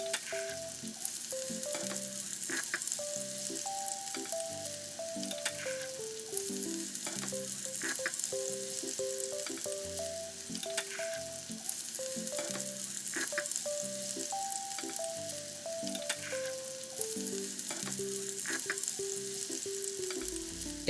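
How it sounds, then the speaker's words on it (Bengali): Koral fish fry in a pan, giving an even, continuous sizzle with faint clinks, under a soft melodic background tune. "পাঁচ মিনিট হওয়ার পরে মাছগুলোকে আবার উল্টিয়ে দিলাম।"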